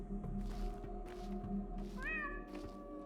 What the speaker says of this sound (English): if I hear a cat meow, I have to meow back.